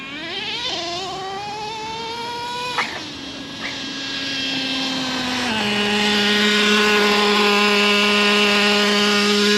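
Traxxas T-Maxx nitro RC truck engine running at full throttle, a high buzzing whine that shifts pitch in steps as it revs and settles into a loud, steady scream.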